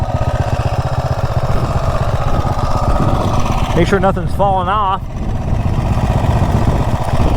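An MM212 minibike engine fitted with a custom intake and a dirt bike exhaust runs steadily and loudly throughout, a constant mid-low drone, while a person talks briefly over it.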